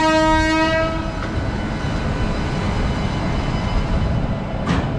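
Chozhan superfast express train at Kumbakonam station, its horn blaring loud at the start with strong harmonic tones, then the rumble and clatter of the passing train continuing steadily, with a brief sharp squeal near the end.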